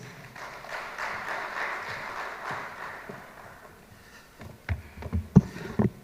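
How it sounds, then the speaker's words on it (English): Brief, fairly quiet applause from an audience at a city investment retention programme launch, greeting a department speaker; the clapping fades after a few seconds, followed by a few soft knocks and movements. "Can we give him a round of applause?"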